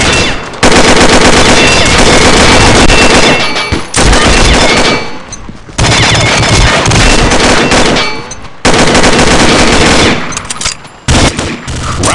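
M4A1 rifle fire in the shooter game Combat Arms comes as loud, rapid automatic bursts close up, broken by brief pauses between strings of shots.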